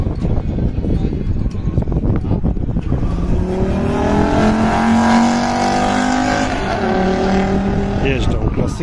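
Classic cars lapping the Autodrom Pomorze race track, heard from on board a Honda Civic V Coupe: a loud, steady engine roar that rises in pitch as the car accelerates, with a voice talking over it.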